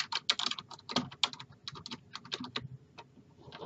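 Quick bursts of keystrokes on a computer keyboard while entering an email address into a spreadsheet cell, close and crisp, with short pauses between clusters of clicks and no talking.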